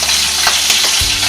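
An egg dropped into hot oil for huevos rancheros gives a loud, close, continuous hissing sizzle that swells briefly, with a low thud near the end; no voices.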